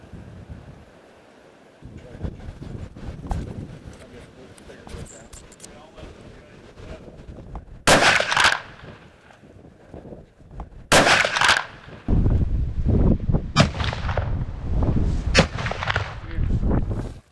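Rifle shots fired outdoors while sighting in before a deer hunt, two sharp loud cracks several seconds apart amid wind buffeting the microphone and rustling handling noise.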